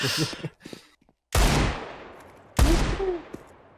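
Two loud gunshot bursts from the first-person shooter CS2 ring out, each decaying with a long reverberant tail, after a brief stretch of faint game sounds and a short silence.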